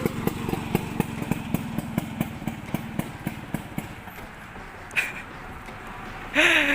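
A Vespa scooter engine idles with a steady chugging pulse, then revs briefly as the clutch is released, with a short rising burst near the end; faint voices in the background.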